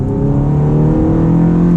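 A Ferrari F430 Spider's engine revs hard in sport mode around a gear shift, a loud, steady, close-up drone with strong low harmonics lasting throughout.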